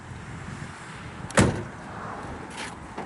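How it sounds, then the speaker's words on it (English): A 1967 Chevrolet Camaro SS convertible door shuts with one solid, close thud, followed by fainter clunks of the other door over quiet background. "Doors shut nice and solid."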